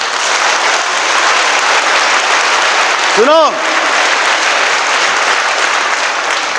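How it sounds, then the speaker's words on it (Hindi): A congregation at a prayer meeting breaks into loud, dense, continuous applause, filling the space steadily, while a single voice briefly calls out partway through. "पहली बार तालियां हो गया, अभी दूसरी बार देखो"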